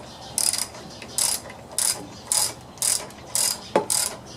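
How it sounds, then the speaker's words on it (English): A 3/8 ratchet loosens the carburetor bolts on a Swisher brush trimmer, giving about eight crisp, close clicking bursts in an uneven rhythm, with no talk. "a 3/8 to get the carburetor off. I'm going to loosen it up right now"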